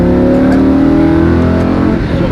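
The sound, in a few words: car accelerating on a race track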